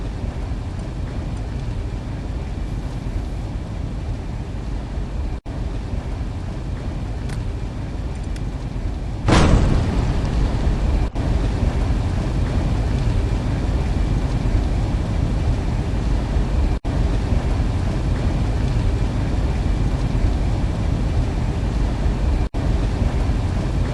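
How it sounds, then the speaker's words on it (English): A steel-melting furnace in the game Nobodies Murder Cleaner gives off a steady, loud roar that runs without a break, with one brief surge partway through. Nobody speaks. "The furnace is melting steel at its maximum temperature"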